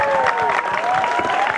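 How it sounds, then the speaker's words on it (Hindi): Audience applause at a DAV cluster school sports competition, a steady crowd patter lasting the whole moment while a voice talks over it. "तो तालियों में आवाज नहीं आ रही है"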